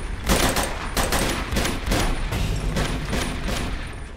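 Enemy gunfire in Uncharted 2 rattles in loud, dense bursts, several volleys of rapid shots crashing one after another with brief gaps, continuous and close throughout.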